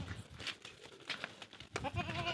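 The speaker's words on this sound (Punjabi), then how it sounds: "ਆ ਬੱਕਰੇ ਆ ਵੀਰ ਕੋਲੇ ਇੱਕ ਇਹ ਬੱਚਾ ਹੈਗਾ" Goats and goat kids in a farm pen bleat faintly and somewhat distantly, several overlapping wavering calls amid low background noise.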